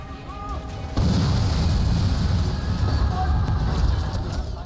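Grenade blasts in the Sniper Elite shooter game, a loud sudden boom followed by a sustained heavy low rumble and debris noise.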